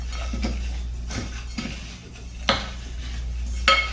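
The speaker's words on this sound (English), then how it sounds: "I'm gonna go ahead and give this a nice toss with a wooden spoon just to incorporate everything together" Dry granola ingredients tossed in a bowl with a wooden spoon, giving a run of close, rhythmic scraping and rustling strokes with a couple of sharper knocks against the bowl.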